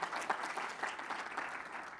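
Short burst of audience applause for a woman named Leanne at a finance talk, steady and moderately loud throughout the brief stretch.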